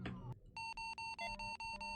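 Electronic beeps sound from the video game The Adventure of Fei Duanmu, a quick, evenly spaced series of about six short, pure tones. They are faint and clean, following a brief low thud at the start.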